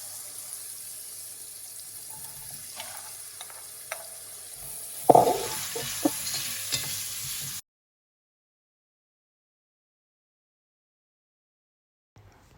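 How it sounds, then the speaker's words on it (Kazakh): Onions added to browned meat fry in a pan for a quick soup, giving a steady sizzle with a burst of stirring clatter midway. The sound stops abruptly, followed by silence. "Енді жуамызды салып қуырамыз."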